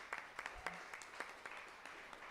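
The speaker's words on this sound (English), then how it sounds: "Can we have a round of applause for all of the amazing work that Lucy has been putting in?" Faint, scattered applause from a modest audience at a live art stage event, a handful of soft, uneven claps sounding somewhat distant.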